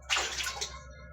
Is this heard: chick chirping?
no